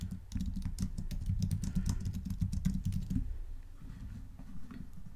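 Rapid typing on a computer keyboard, close clicking keystrokes in a quick irregular run for about three seconds, then a few sparser taps.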